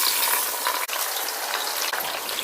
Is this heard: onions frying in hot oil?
yes